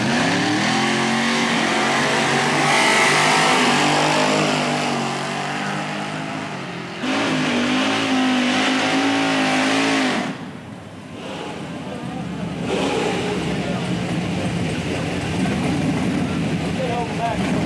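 Drag racing car at a dragway powering down the track, a loud continuous engine roar that rises and falls across the run, with an announcer talking over it throughout.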